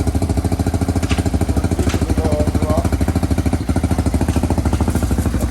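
An Xpro Hawk EFI 250cc dirt bike engine runs close by with a loud, even, rapidly pulsing idle that continues without a break.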